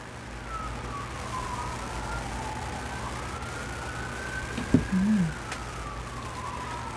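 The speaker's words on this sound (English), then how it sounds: "Oh, it's sirens." Emergency vehicle sirens wail steadily at a distance, rising and falling in a slow sweep, with a brief nearby thump and murmur partway through.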